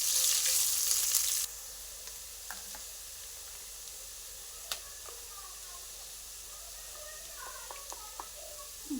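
Sliced onions drop into hot oil with a loud burst of sizzling, which quickly settles into a low, steady fry punctuated by occasional small clicks and spatters.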